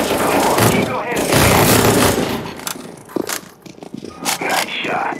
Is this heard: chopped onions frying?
no